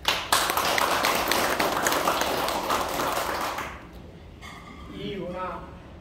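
An audience clapping for a member at a nonprofit's founding general meeting, a loud sustained round of applause that fades after a few seconds and gives way to someone speaking.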